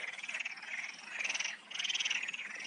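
Frogs croak in rapid, rattling pulses, a few overlapping bursts with a brief pause, fairly close and loud against quiet surroundings.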